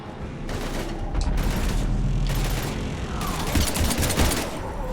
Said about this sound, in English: We're almost to the Normandy. I've got Lieutenant Vega with me, but we're taking heavy fire.